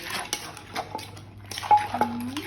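A pestle pounds cockle salad in a mortar with a quick run of close, sharp knocks and clacks at an uneven rhythm. No voices are heard.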